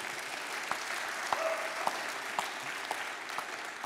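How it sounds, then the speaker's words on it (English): An audience claps in steady, fairly dense applause for a returning host at a live show, with a few sharper individual claps standing out against the continuous patter, and no speech over it. "let's clap for him"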